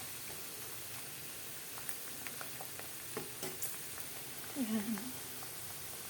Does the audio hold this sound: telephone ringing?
no